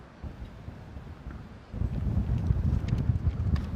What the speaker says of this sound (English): Seems to be getting a bit windy out here